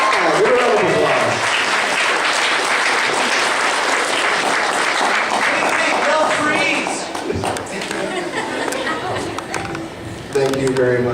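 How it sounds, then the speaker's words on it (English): A costume-contest crowd at Kraken Con 2014 claps for a cosplayer posing on stage: a loud, sustained round of applause that thins out toward the end, with voices and scattered cheers mixed in. "give a round of applause."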